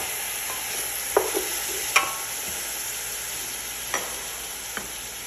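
Chicken pieces and tomato in a hot pan sizzle steadily under a constant frying hiss, with a few sharp clicks and scrapes from a stirring utensil against the pan.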